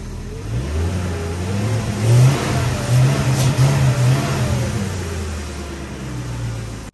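BMW M3 engine revving up and settling back with a sluggish, hesitant throttle response, a steady mid-pitched drone that swells around the middle and eases off, heard close with no talking.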